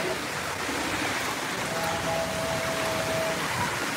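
Steady rain falls outdoors, an even, unbroken hiss of drops at moderate volume that holds constant for the whole stretch with no voices.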